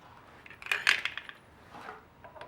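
Metal bolts jingling and clinking together as they are picked up and handled, a short cluster of bright taps near the mic followed by a softer rattle.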